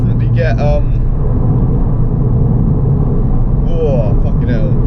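A Ford Fiesta ST hot hatchback drives hard, its engine and exhaust producing a loud, continuous low roar inside the cabin, with brief high squeaks and rattles near the start and end.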